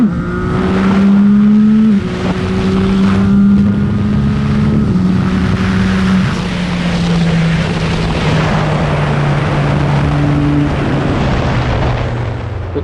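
A 2025 CFMoto 675SS motorcycle accelerates uphill, its loud, close engine rising steadily in pitch, with quick-shifter upshifts breaking the climb at least twice before it settles into a long pull.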